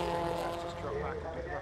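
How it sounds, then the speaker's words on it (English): An Alfa Romeo 156 race car circles Donington Park during a BRSCC Alfa Romeo Championship round, its engine giving a steady, sustained drone under a commentator's voice. "Beautiful sounding engine on this 156"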